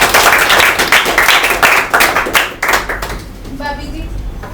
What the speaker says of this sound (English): Clapping for Tantric Baba.